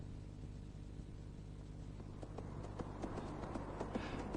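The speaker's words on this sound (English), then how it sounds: "Titus turns his small grey horse in the direction of Gormenghast forest" Hooves of a small grey horse clip-clop at a steady walking rhythm beneath a low continuous rumble, growing slightly louder and more distinct toward the end, as a radio drama sound effect.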